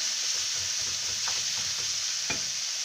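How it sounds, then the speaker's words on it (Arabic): Kofta and onion fry in a pan with a steady, broad sizzle that runs the whole time, while a few soft stirring scrapes and clinks land near the middle and end. "من بعد كنزيدو عليها الكفته، كنخليوها تشرب هاد البصلة تطفيها مزيان"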